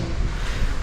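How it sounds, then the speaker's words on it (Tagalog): Gusty outdoor wind rushes steadily across the microphone, a dense low rumble with slight surges and no voices, like an exposed open-air spot near water. "Mahangin na naman."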